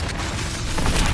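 The Bombarda blasting spell in a Harry Potter video game lands as a dense, loud boom with a rough, crackling wash that holds steady through a short burst.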